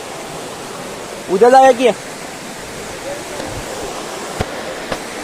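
An overflowing stream rushes with steady, broadband water noise throughout, while a voice speaks briefly near the middle.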